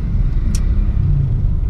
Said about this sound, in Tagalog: Medyo traffic lang talaga dito sa parte na to.